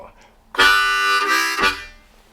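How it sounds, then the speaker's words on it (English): A C harmonica chugs in second position, sounding two strong breathy chords in quick succession, close and loud, with a faint voice just before. "how to play a really simple chugging pattern with"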